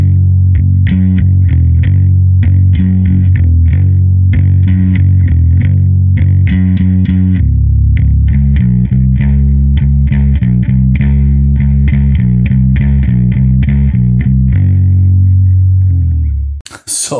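Heavily distorted electric bass playing a doom riff, with chugging, galloping repeated notes, loud, close and alone for most of the passage before it stops near the end.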